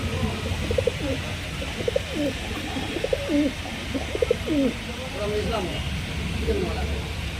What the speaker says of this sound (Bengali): এখানে দেখুন পায়রা দেখুন